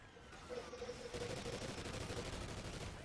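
Rapid automatic gunfire in the video game Call of Duty: Ghosts, a dense sustained burst of shots that starts after a brief lull and continues loud and continuous to the end.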